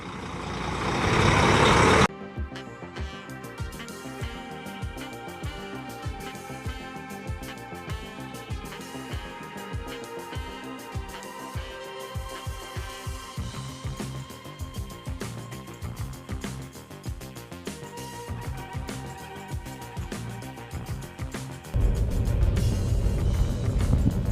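Trucks idling and moving at the Shehyni border crossing point, a steady dense engine rumble with mechanical clatter and hiss, louder surges at the start and end, no voices.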